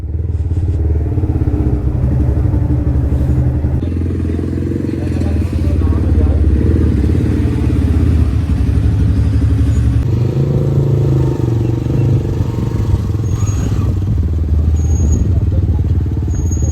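A motorcycle engine rumbles loudly and continuously, idling and revving close by, with a voice speaking over it at times.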